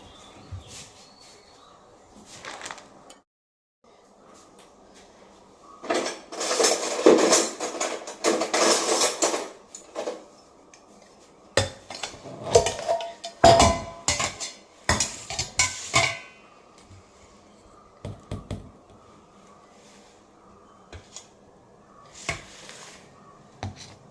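Pots and dishes are washed at home, with bursts of metal clanking and clattering separated by quieter stretches, close by and irregular.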